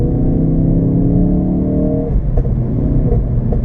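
A Ford Focus RS drives around a corner with a close, steady engine drone that shifts pitch as it eases through the bend. No one speaks over the engine.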